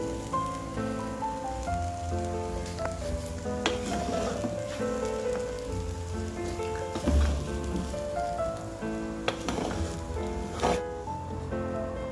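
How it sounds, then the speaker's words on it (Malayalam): Chicken fried rice is stirred in a pan with the stove switched off, giving a steady sizzle with scraping and stirring strokes throughout, fairly close and continuous, with no talking. "ഇനി സ്റ്റൗ ഓഫ് ചെയ്തിട്ട് നമുക്ക് ഇളക്കാം."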